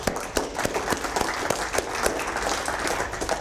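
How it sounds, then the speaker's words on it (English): An audience at a business forum panel gives a warm round of applause, with steady, crisp clapping from a moderate-sized crowd throughout, no talk over it. "Please give him a round of applause"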